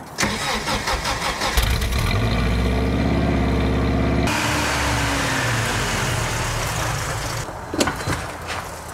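A car engine cold-starts with a loud crank and catch, then settles into a steady, close idle that holds for several seconds, with a brief clunk near the end.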